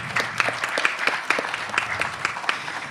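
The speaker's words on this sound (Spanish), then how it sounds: "un aplauso fuerte." Loud, close applause from a conference audience in Argentina, dense clapping with sharp individual claps standing out in a steady rhythm throughout.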